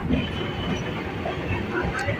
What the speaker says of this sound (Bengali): আমাদের ট্রেনটা ঢুকছে এখন হচ্ছে বড়বাজার স্টেশনে